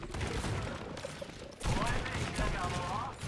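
Quick shots from Cassidy's gun in a video game, a steady run of punchy reports over game noise and effects while a voice talks over them.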